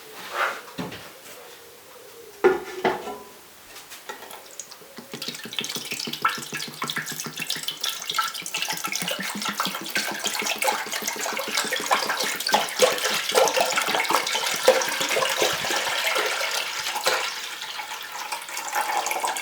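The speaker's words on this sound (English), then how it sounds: "we're going to add our seawater to a hot pan and bring it to a nice rolling boil" Seawater poured into a hot, wide, non-reactive stock pot, starting with a few knocks and clatters and then a steady, close rushing pour that continues at a constant level to the end.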